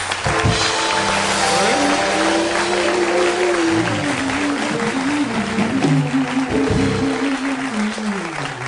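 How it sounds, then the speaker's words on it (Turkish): A Turkish comedy show's studio audience applauds steadily and loudly, sustained clapping filling the room while music plays underneath and a host speaks over it. "Alkışlar alıyoruz."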